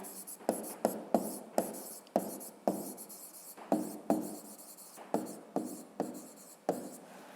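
Numbers being written by hand with a pen on paper for a fifth-grade maths exercise: a close series of about a dozen short, crisp strokes and taps in an uneven rhythm, with no talking.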